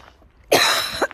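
A single harsh cough bursts out loud and close after a quiet moment, followed by a brief second exhalation, outdoors near the sea.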